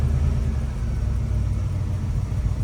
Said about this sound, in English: Oh my God, she idles